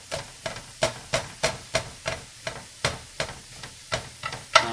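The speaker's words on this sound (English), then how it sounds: "And just stir and make sure it doesn't stick." Fajita filling sizzling in a frying pan while being stirred and broken apart with tongs, giving steady rhythmic scraping clacks about every third of a second over a continuous fry hiss.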